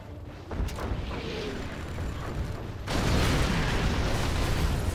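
Artillery fire in C&C Generals Zero Hour rumbles as a series of heavy booms and explosions in a match, growing denser and louder partway through into a sustained barrage.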